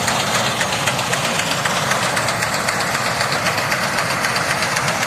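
A wheat harvesting machine's loud, steady engine drone with a rapid mechanical knocking, running continuously without pause and no voices.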